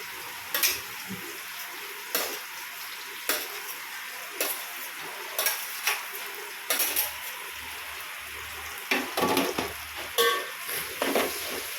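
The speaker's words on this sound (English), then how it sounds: "so we'll be adding the onions into oil." Onions frying in hot oil for a chicken biryani, with a steady sizzle under repeated sharp scrapes and clinks of a spoon stirring the pan, close and moderately loud.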